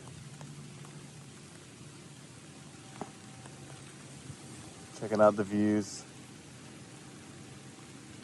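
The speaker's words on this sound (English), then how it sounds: "now it's starting to rain" Rain falls steadily on a foggy mountain overlook at Black Rock Mountain during a backpacking trip, a soft continuous patter filling the background while a person speaks briefly near the end.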